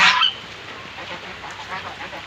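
Farm turkeys give a loud honking call at the start, then quieter scattered calls and rustling follow on a rainy day.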